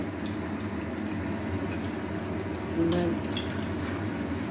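Curry in a pot is stirred with a utensil, giving soft clinks and scrapes over a steady low background hum, with a single brief metallic knock near the middle.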